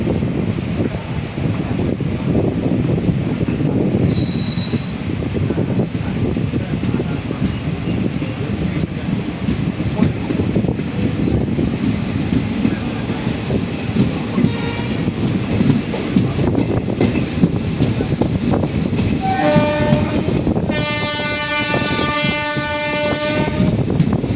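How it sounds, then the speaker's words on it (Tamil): A train rumbles steadily past at Karumandapam yard near Trichy for a long stretch, wheels clattering and occasionally squealing, before a loud, sustained horn blasts near the end. "ஹாரன் சும்மா அதிருது இல்லை, எப்படி அருமையாக இருக்கு பாருங்க வண்டியோட"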